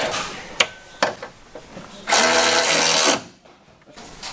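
Power tool tightening the mounting bolts of KONI shock absorbers on a motorhome, a single loud one-second whirring burst after a few clanks, close by.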